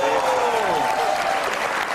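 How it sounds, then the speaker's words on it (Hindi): A studio audience applauds on a comedy show, a full, continuous burst of clapping with a sustained voice-like tone running through it, loud and close for the whole moment. "बहुत सारी तालियां आपके हसन के लिए"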